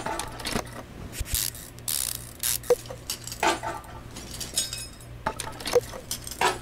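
Ratcheting and metallic clinks as U-bolts are tightened on a rear axle in the video game Car Mechanic Simulator 2015, quick mechanical clicks and clanks in irregular bursts, fairly close.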